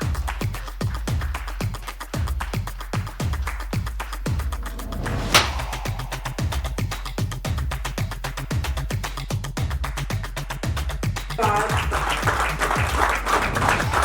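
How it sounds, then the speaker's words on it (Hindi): An audience at an award ceremony for top-ranked exam students claps in a steady, rhythmic unison beat with thumping low hits, continuing evenly throughout and swelling a little near the end. "जोरदार तालियां एवरीवन"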